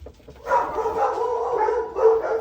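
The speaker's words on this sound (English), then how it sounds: "No barking! Hey, Mila!" A dog barks and howls in a sustained, whining volley close by, rising and falling without pause.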